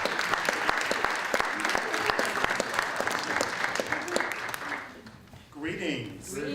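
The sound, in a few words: applause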